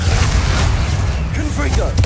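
A Bombarda blasting spell from the Hogwarts Legacy video game bursts out as a dense, booming explosive rumble mixed with crackling debris, loud and sustained across the whole short moment of combat.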